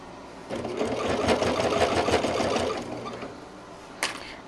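A sewing machine stitches a quarter-inch seam around a quilted market bag, running in a steady fast whir for a few seconds before stopping, followed by a brief click, close by and with no talk.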